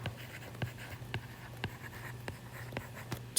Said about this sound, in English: So let's start with sum and just write the definition.